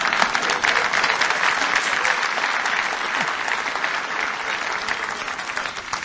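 A live audience at a speaking event claps in a full, sustained round of applause that stays steady and fairly loud throughout, with no voices over it.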